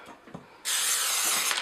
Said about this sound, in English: So what I use is just a normal brand of cooking spray.